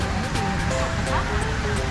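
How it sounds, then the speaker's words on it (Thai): Waterfall in a fern garden park, a continuous rushing roar of falling water heard nearby, with voices faintly present. "ดูน้ำตกดิ"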